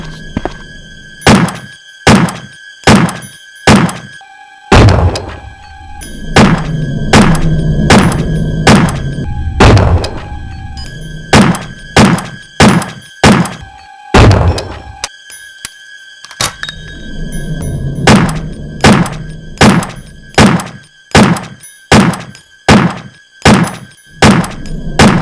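Beretta M92FS 9mm pistol firing in the Resident Evil 1 video game: about two dozen sharp, loud shots in quick rhythmic bursts, separated by short pauses and a stretch of low rumbling game ambience.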